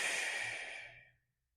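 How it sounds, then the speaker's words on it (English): A single deep breath during a morning low back pain stretching routine, drawn in and released as a soft airy sigh close to the microphone, fading out into silence after about a second. "Take a deep breath in and out."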